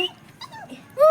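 A young dog gives soft, thin whimpers and a brief yip at the end, close by and fairly quiet.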